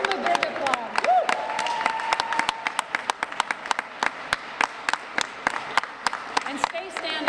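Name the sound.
audience applause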